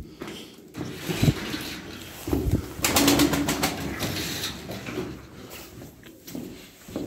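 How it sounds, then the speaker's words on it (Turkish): Bursts of flapping wings, some sharp and close, with rustling in between and a faint cooing pigeon in the background. "Hayvandaki kanat sesine bakın, kanat sesine"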